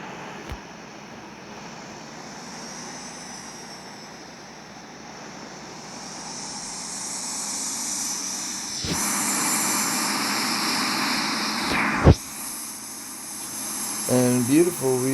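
Simulated airliner engines spool up for a takeoff roll from San Francisco in the Infinite Flight simulator game, a broad, steady roar that swells louder over the clip, with a few sharp clicks and a voice near the end.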